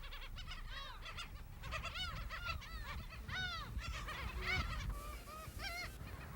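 Black-tailed gulls crowd a nesting colony on Dokdo and call over one another in a dense, continuous chorus of honking, mewing cries. No one speaks.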